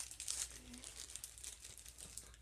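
Soft crinkling of a see-through plastic blind box bag being cut open, quiet and close, with faint irregular rustles throughout.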